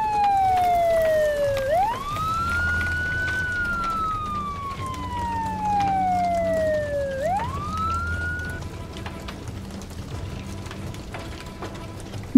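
A toy fire truck siren from a Paw Patrol rescue playset wails in two long rising-then-falling sweeps, loud and close over a low background hum.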